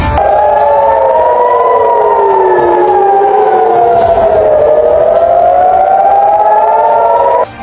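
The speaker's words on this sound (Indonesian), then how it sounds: "sirine Iron Dome Israel langsung menyala keras" A loud Israeli air raid siren wails up and down during an Iranian attack, in long rising and falling sweeps, continuous and close, with no voices.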